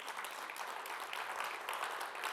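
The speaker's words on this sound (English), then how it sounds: "Can we give ourselves a round of applause" A brief, distant patter of audience applause at a faith gathering, faint and even, with no voices over it.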